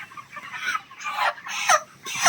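A rooster of about two kilograms on a farm clucks in a string of short, close, fairly loud bursts, with no voices over it.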